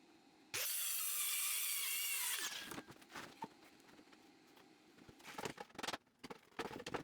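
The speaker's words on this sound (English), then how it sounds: "I measure and then cut with a circular saw and a square." A circular saw rips through a sheet of plywood in one loud, steady burst of about two seconds, then winds down, followed by scattered knocks and handling clatter nearby.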